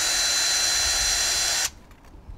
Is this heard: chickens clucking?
no